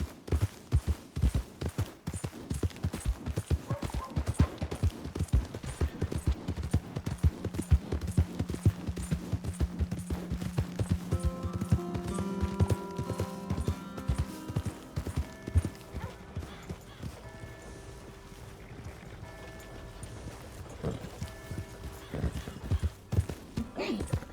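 Steady rhythmic clip-clop of horse hooves close by for the whole stretch in the video game Red Dead Redemption 2, joined by a whinny and a sustained tonal hum, with voices talking over it.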